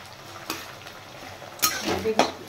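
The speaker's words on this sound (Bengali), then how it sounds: "কড়াই আবার উল্টে না করে আস্তে আস্তে নাড়বি" A spoon stirring chopped tomato and onion in a kadai, with a few distinct scraping clatters of metal against the pan over a soft background sizzle, close and moderately loud.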